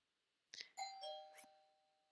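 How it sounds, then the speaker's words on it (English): A doorbell chimes twice, bright ringing tones that hang and slowly fade in an otherwise quiet room. "Who's ringing at my doorbell? No one ever rings the doorbell."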